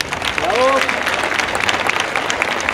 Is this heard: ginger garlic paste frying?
no